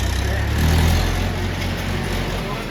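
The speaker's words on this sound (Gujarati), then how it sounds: "પાછો ટ્રેક્ટર માં બેસી ગયો" A tractor engine runs close by with a steady low, heavy rumble that holds through the whole stretch, a little louder near the start, with a constant high whine above it.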